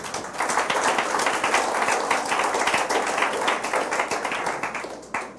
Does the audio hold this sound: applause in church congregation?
yes